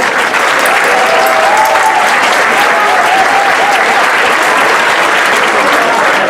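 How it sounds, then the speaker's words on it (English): A large crowd applauds loudly and continuously, a dense wash of clapping that holds steady throughout. "So a round of applause one more time for Elle."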